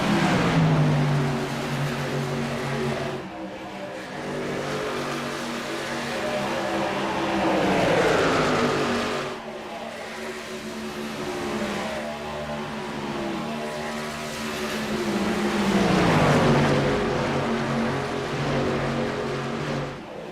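Race trucks roar past on the Las Vegas oval, engine notes rising and falling in repeated pass-bys over a steady loud drone of pack racing.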